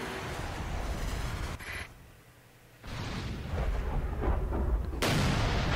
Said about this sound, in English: Airstrike. Let's do the airstrike then.